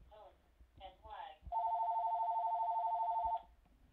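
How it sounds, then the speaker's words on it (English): A phone rings with a single sustained electronic tone lasting about two seconds, close and clear, just after a brief stretch of talk. "And always there's a phone call when I make a video."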